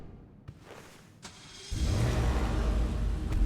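A car engine in GTA Online cranks and catches after a quiet lead-in with a couple of faint clicks, then settles into a loud, steady idle rumble.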